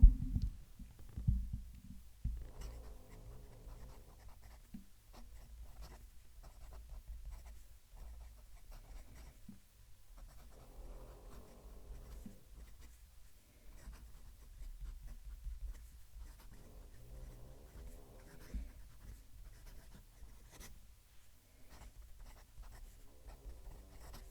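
Gold-nib fountain pen writing a sentence on paper, heard close up as soft scratchy strokes in repeated bursts with short pauses, faint over a low background hum.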